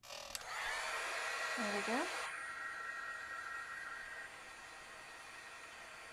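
A heat tool blows a steady whooshing hum over watercolor paint for about two seconds, then cuts off and leaves a faint background hiss, with a brief spoken remark near the end.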